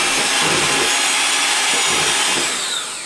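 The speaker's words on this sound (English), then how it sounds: "with your mixer over low speed, just really cream that butter up" Electric mixer creaming butter in a bowl at low speed for cupcakes, a steady close whirring hum held for a few seconds and easing slightly at the end, no talk.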